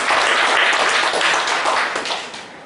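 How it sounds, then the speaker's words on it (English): A short burst of audience applause at an award event in New Delhi, loud at first and fading toward the end. "Deserves a round of applause."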